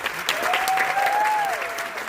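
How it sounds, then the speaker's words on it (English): Steady audience applause at an arts awards ceremony celebrating Malaysian performing arts, filling the moment with dense clapping while a faint tonal whistle or cheer rises and falls through the middle. "Let's take a round of applause for everyone who's played a part."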